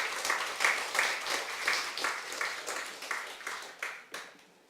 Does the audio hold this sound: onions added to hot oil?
no